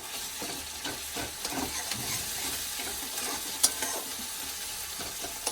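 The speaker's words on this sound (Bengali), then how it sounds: "এখন আমি রসুন বাটা দিয়ে দেবো।" Garlic paste frying with already browned onions in a pan: a steady close sizzle with scrapes and taps from stirring and one sharp clink partway through, no voices.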